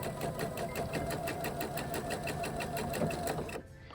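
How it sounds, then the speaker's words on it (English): A sewing machine stitches across the point of a fabric Easter bunny treat holder, a steady rapid mechanical whir with regular needle ticks running close and continuous for several seconds before cutting off near the end. "then I'm going to stitch across the point at about 1 inch"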